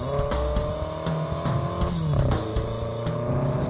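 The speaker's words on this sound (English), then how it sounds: "First up, the BMW X5M." BMW X5M SUV driven hard through the first turns of a race track, its engine revving high and shifting, with tire noise and repeated engine pulses, loud and close throughout.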